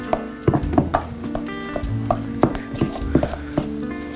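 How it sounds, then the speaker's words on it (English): Slider burger meat mixture with onions sizzles in a pan as a utensil stirs it, with repeated scraping strokes and sharp metallic clinks against the cookware, close and fairly loud. "So I'm gonna keep stirring this"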